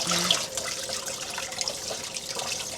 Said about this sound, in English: I just need to give this on my hands a good rinse through for whatever comes next.